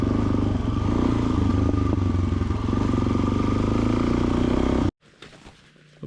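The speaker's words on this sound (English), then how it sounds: "Just had a couple dirt bikes that sounded, God, they sounded like they were right here, but they're across the drainage, take off" A couple of dirt bikes across a drainage, their engines droning loudly and steadily for about five seconds before cutting off abruptly, followed by faint rustling.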